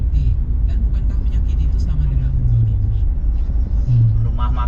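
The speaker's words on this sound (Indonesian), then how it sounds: "Wah ini kendaraan gede-gede ini nih ya." Large trucks and buses roll past on the Pantura highway between Cirebon and Brebes near a roadside restaurant, a heavy continuous road rumble with occasional louder engine swells.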